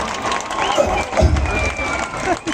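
An audience at a memorial gathering breaks into sustained crowd noise and cheering with scattered clapping, fairly loud and continuous throughout.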